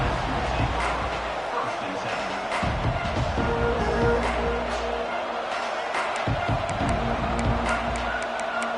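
A stadium crowd roars steadily through an LSU vs Alabama college football game, a dense wash of cheering and chatter that never lets up, with a commentator talking over it.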